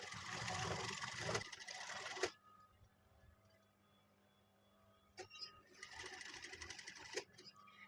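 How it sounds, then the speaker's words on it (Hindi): Sewing machine stitching elastic into the waistband of pants, two loud bursts of rapid whirring stitching separated by a quiet pause, close up. "हमें इलास्टिक के बिल्कुल जड़ में सिलाई लगाते हुए इसे स्टिच करना है।"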